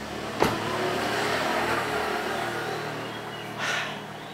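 A car fitted with Rotiform wheels and Yokohama tyres drives along with a steady road and engine rumble, a sharp click near the start and a brief swell of noise toward the end.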